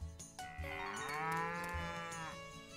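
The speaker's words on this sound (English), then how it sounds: "And the cow is happy." A cow in the farming game Story of Seasons: Pioneers of Olive Town gives a single long, clear moo, heard alone with no talk, over faint game background sounds.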